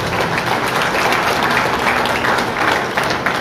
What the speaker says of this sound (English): I think a bigger round of applause will convince us.